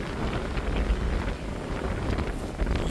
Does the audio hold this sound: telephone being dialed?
no